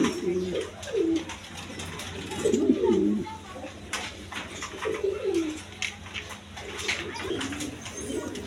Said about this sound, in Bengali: বন্ধুগণ এখানে এক পেয়ার রেসার কবুতর আছে